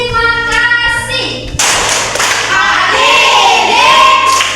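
A class of children doing a rhythmic thank-you clap in a classroom, with patterned claps and thumps mixed with sung or chanted voices, loud and close.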